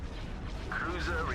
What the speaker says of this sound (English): we're about to get another ion cannon shot in